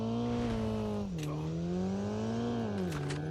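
A vehicle engine in the Call of Duty Mobile game revs in a steady drone that rises and falls in pitch twice, clear and close, alone with no talking.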